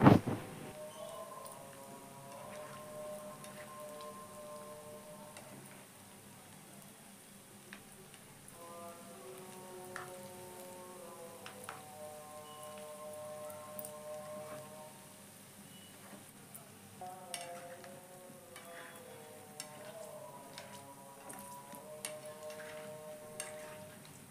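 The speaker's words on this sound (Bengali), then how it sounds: "এখন আমি এগুলোকে আস্তে আস্তে উল্টে পাল্টে খুব ভালো করে ভেজে নেব।" Semolina and potato snacks deep fry in hot oil with a continuous light crackle while being turned, and a steady musical tone plays throughout.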